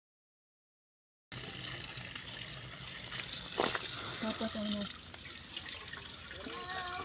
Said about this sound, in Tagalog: Unlimited yung tubig. Itong tubig na galing bundok.